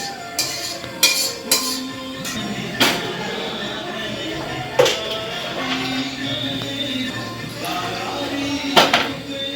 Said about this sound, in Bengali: দেখো এখানে ভোগ রান্না হচ্ছে।